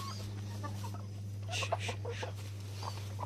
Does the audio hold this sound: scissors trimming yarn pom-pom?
no